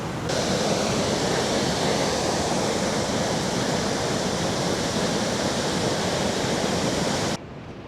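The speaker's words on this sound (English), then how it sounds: "That's gonna be a big waterfall." A steady, loud roar of falling water fills the scene without a break, then drops abruptly to a softer rush at the end.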